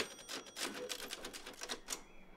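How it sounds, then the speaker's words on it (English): Rapid typewriter keystrokes clack in a quick uneven burst inside the video game Resident Evil Village, a dozen or so strikes close and alone before stopping. "I said typewriter on the right."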